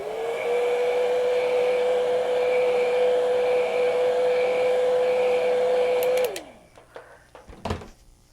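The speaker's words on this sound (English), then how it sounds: "I'm going to dry this just a little bit." A hair dryer blows steadily on acrylic paint on canvas, a loud, even whine for about six seconds before it switches off and winds down, followed by a few faint knocks.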